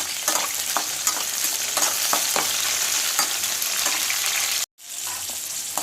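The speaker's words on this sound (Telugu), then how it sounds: "ఈ వంకాయ ముక్కలు ఇందులో వేసేసుకున్నామండి." Brinjal pieces fry in hot oil in a pan for a brinjal chutney, giving a steady, loud, dense sizzle with crackling bursts throughout. The sizzle drops out briefly near the end and then resumes.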